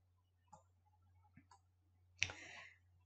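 Computer mouse clicks while working in an Excel spreadsheet: a few soft, isolated clicks spaced apart, then a sharper, louder click near the end, close and quiet with no talking.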